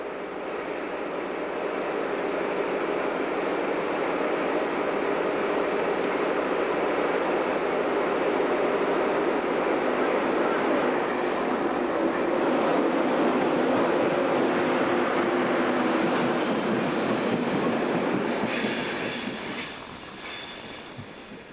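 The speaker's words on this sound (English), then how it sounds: "another IC 225 arrives in York." An InterCity 225 electric train hauled by a Class 91 locomotive arrives at York station in 1991, rumbling steadily past at close range, growing louder, with metallic wheel squeals rising toward the end as it slows.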